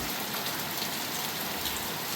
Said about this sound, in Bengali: বাইরে রিমঝিম রিমঝিম বৃষ্টি হচ্ছে